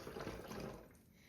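Water pours from a pint container into a quart container in a steady splashing stream, near and fairly soft, tapering off toward the end.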